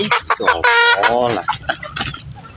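Free-range village chickens cluck and squawk up close at feeding time, a burst of loud rising calls followed by softer clucking and scattered rustling.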